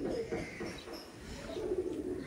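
A male Madrasi pigeon of the Chennai line coos softly nearby, a low burbling call over a hissy background.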